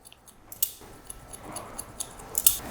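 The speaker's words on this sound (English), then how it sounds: "I'm just going to cut it, point cut it as well, so it does fall quite jagged." Scissors point cutting straight hair while fixing a self-cut disconnected undercut: a few soft, crisp snips spaced irregularly, close and quiet, with no talking.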